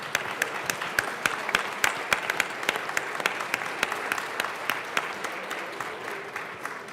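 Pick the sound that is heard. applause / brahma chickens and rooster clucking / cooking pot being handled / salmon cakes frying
applause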